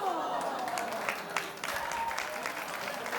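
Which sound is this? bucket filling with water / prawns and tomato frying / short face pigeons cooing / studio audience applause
studio audience applause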